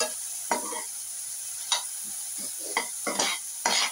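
An onion and garlic mixture is stirred in a frying pan, with scraping strokes over a steady sizzle, close and fairly quiet, and no talking.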